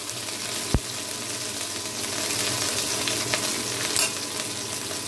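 Crushed ginger and green chili fry in hot tempering oil, giving a steady close sizzle with a sharp clatter of stirring near the start and a few light scrapes later.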